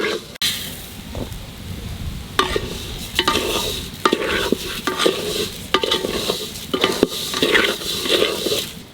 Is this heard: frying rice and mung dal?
yes